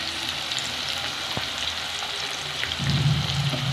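Tomato sautéing in a pan for anda methi bhurji gives a steady hiss and sizzle, close and continuous, with a brief scrape of stirring and a louder frying surge toward the end.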